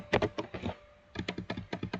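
Keys clatter on a computer keyboard in two quick bursts of close, crisp taps, separated by a short pause while a command is entered.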